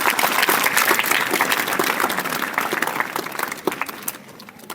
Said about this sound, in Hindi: एक बार इन सब के लिए जोरदार तालियां बजाओ।